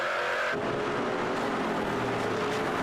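NASCAR Pinty's Series stock cars race in the 2016 CRS Express 300, a loud, continuous engine roar with cars accelerating and sweeping past close by.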